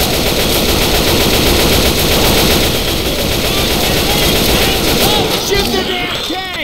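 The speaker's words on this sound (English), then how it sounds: "Shoot the damn tank!" Automatic weapons fire in Left 4 Dead 2 while the survivors shoot at a Tank, a dense, loud, continuous burst of rapid gunshots with faint voices underneath.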